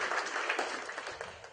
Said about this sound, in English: So let's give a big round of applause to all the doctors who are come here to attend this function.